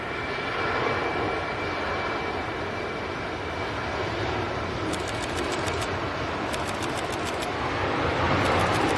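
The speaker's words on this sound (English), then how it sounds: "We have an Air France hop taking off on a runway at the moment" Steady broadband roar of an Air France Hop passenger jet taking off from a runway at Manchester Airport, fairly distant and continuous, building slightly toward the end, with faint clicking ticks in the background.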